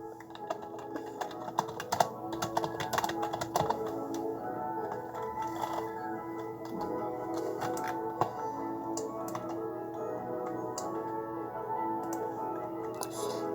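Rapid typing on a computer keyboard, irregular clusters of light clicks with brief pauses, steady and close, with no voices.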